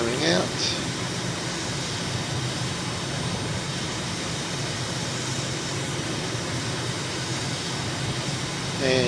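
A small airplane's engine climbing out just after takeoff, a steady loud drone with wind roar heard from inside the cabin throughout.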